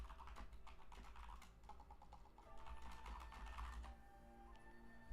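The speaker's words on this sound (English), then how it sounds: "I love hearing Sudarezz clicking in the background." Computer keyboard keys clatter in quick, uneven bursts in the background, soft and steady over a low hum for several seconds.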